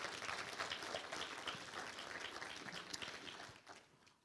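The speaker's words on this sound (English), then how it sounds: "Another round of applause" Audience applause for an honoree at a Missouri Walk of Fame ceremony, a steady, dense wash of many hands clapping throughout that thins slightly toward the end, with no talking over it.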